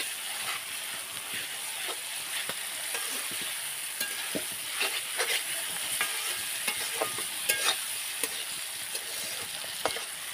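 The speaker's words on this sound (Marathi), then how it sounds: "मस्त असं परतून घेते मी" Chicken curry being sautéed in a large kadhai over a wood-fired stove, with a steady close sizzle and repeated scraping stir strokes throughout, no voices.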